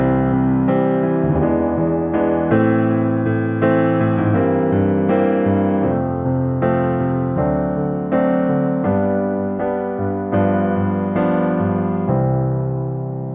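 A sustained chord progression with secondary dominant chords on a keyboard, full chords changing about once a second in an even pace, loud and alone with no speech.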